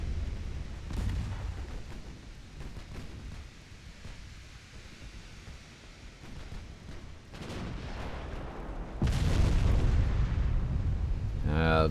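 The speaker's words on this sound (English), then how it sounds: "The 12-inch guns are overpenning." 12-inch naval guns fire during an 1893 French campaign in Ultimate Admiral Dreadnoughts, with deep, heavy booms and rumbling salvos over a low background drone that swells louder toward the end.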